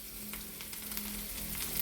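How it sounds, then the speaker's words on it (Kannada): Half an onion sizzles in hot oil for a tempering while crab sukka is cooked, giving a steady, close frying hiss with a faint low hum underneath. "ಬಾಕಿ ಅರ್ಧ ಈರುಳ್ಳಿ ಇಟ್ಟಿದ್ದೀವಲ್ವ, ಅದನ್ನು ಒಗ್ಗರಣೆ ಕೊಡುವ."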